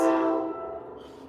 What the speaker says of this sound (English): I live right in front of a train. That's why you guys will hear the train all the time.